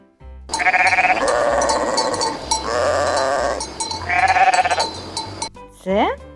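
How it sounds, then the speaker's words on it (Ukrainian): Three long, wavering bleats from a ram, loud and close, separated by short pauses, with a low rhythmic thumping beneath and a brief high chirp at the end. "Баран."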